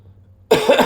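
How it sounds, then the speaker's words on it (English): A single loud, close cough after a brief near-silence. "Big cough."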